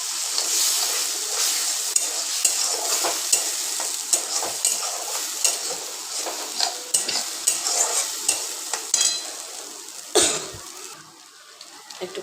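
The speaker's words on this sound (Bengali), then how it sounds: "আমি গ্যাসটা কিন্তু কমে রেখেছি, একটু একটু জল দিয়ে দিয়ে কষাবো।" Paneer masala sautéing in a pan over low gas, with small splashes of water added, gives a continuous sizzle broken by repeated spoon scrapes and stirring strokes, close up, with a few short coughs or throat-clearing sounds.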